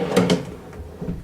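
A drawer on a newly built shop project workbench slides out with a couple of quick wooden knocks and a short scraping run, close and fairly loud, followed by a softer bump.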